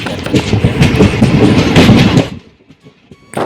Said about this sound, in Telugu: ఇప్పుడే ట్రైన్ వచ్చేసి